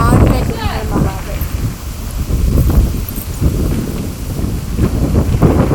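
Strong wind blowing outdoors, a continuous loud rush and microphone buffeting with a person talking over it.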